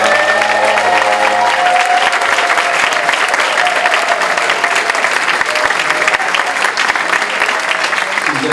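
A large audience at a Toronto Black Canadians diversity mayoral debate claps steadily, dense sustained applause filling the whole stretch, loud and even, with a brief tone at the start.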